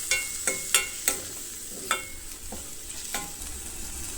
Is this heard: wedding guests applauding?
no